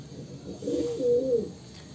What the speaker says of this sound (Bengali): এই হলো বন্ধুরা পায়রার পেয়ারটি কেমন হয়েছে আপনারা অবশ্যই কমেন্ট করে জানাবেন